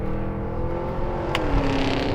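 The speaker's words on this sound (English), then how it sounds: "Listen to that exhaust, for goodness sake." A Cadillac Escalade V's exhaust roars on a race track, a loud, sustained engine drone that rises slightly in pitch as it revs, heard from inside or close by with no talk.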